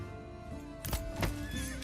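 A horse neighs and whinnies in the medieval building game Manor Lords, with a rising call and a few hoof thuds over a soft ambient game soundscape, fairly faint and with no voices.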